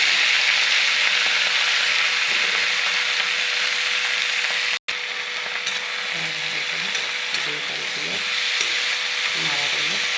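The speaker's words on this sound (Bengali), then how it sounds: "এবার আমি লাল শাকটা তেলে দিয়ে দিলাম।" Chopped red amaranth leaves frying in hot oil with a chilli tempering, giving a steady, loud sizzle throughout with a brief break near the middle.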